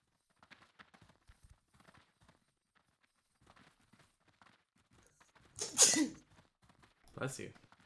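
A single loud sneeze bursts out close to the microphone after several seconds of faint, scattered background noise, and a second, shorter burst follows about a second later.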